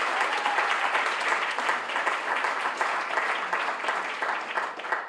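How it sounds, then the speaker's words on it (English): Audience applause for the moms, dads and other adults who helped, steady dense clapping filling the room for about five seconds without a break. "give them a round of applause"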